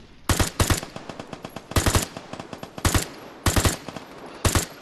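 AUG rifle firing in a video game, six short bursts of two to three rapid shots each, loud and close, separated by brief pauses.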